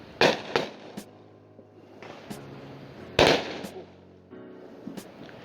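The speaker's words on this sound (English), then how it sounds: "We got fireworks." Fireworks bursting in the rain at night, several sharp pops and bangs spaced irregularly over a few seconds, moderately distant, with faint crackles in between.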